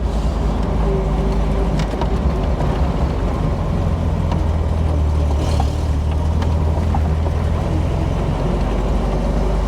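A 1981 Triumph TR7 Convertible heard from inside on a seafront drive, its engine droning steadily at a loud, constant level with a low rumble and road noise throughout, no voices over it.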